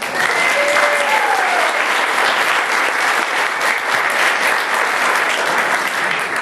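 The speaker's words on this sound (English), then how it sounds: "Give a round of applause on that" Sustained applause from an audience at a conducting master class, loud and steady throughout with a dense, even texture of many hands clapping.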